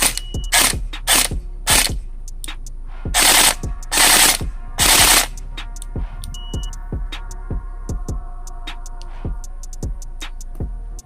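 A Bolt B4 MK18 Mod 1 airsoft rifle with a recoil system fires on full auto: rapid, regular mechanical clacks and ratcheting bursts, loud and close, with several longer sustained strings of fire and no talk.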